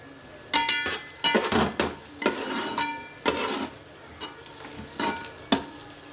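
Onions cook with salt and turmeric in a pan for a Telugu-style chicken fry, a soft sizzle under repeated spoon scrapes and clinks against the pan in an irregular stirring rhythm.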